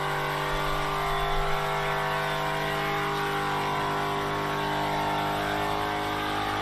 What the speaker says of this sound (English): It almost looks like an all-wheel burnout.